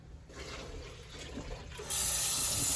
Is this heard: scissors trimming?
no